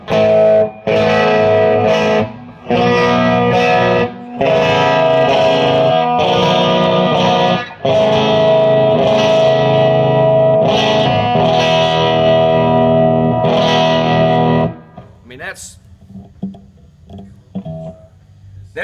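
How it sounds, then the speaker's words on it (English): A Gibson 1958-spec Korina Explorer electric guitar played through its original Gibson pickups, loud sustained chords with a twangy edge, rhythmically chopped with short gaps, then trailing into quieter scattered notes at the end. "That's an amazing guitar sound."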